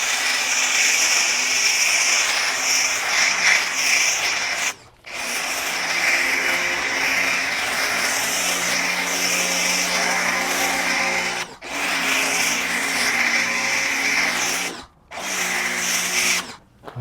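A Ryobi pressure washer runs nearby while a ceramic-coated vehicle is washed, giving a loud steady motor whine with a hissing spray that drops out briefly three times as the trigger is released.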